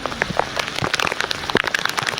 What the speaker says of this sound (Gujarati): ત્યાં જ વરસાદ ચાલુ થઈ ગયો